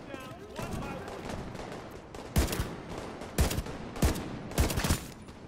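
Single-fire assault rifle in The Division 2, four sharp, loud, separate shots spaced about a second apart over a murky background, with a voice talking faintly earlier.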